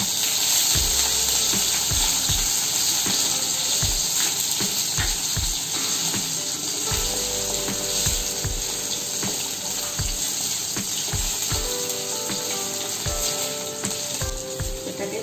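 Cumin seeds and cut potatoes frying in homemade ghee, a dense continuous sizzle with sharp crackles and pops scattered throughout, close and steady.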